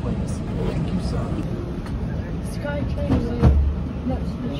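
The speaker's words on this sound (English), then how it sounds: "Please hold on. This train is departing." The ATL SkyTrain airport people mover hums and rumbles as it pulls away, with voices chattering nearby and a brief clunk near the end.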